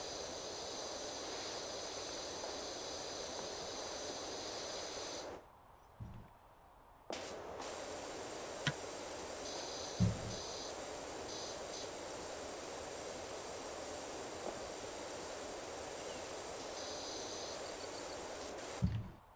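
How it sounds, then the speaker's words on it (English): Pressure washer water spray from the PowerWash Simulator video game: a loud, continuous hiss that cuts out for about two seconds, then resumes, broken by a few faint clicks and pops. "you just hear the water spray for a bit"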